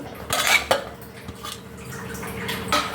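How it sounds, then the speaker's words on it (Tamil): Clattering of chopped bottle gourd dropped into a metal pan, a few clinks and scrapes close by, followed by a soft ongoing sizzle. "அப்படியே கட் பண்ணி வச்சுருக்கிற சொரக்காவை இதில் போட்டுப்போம்"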